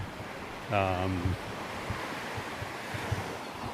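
Gentle surf washes steadily on a beach at Cayo Santa Maria under light wind, with a brief tonal sound near the start; waves are soft and continuous.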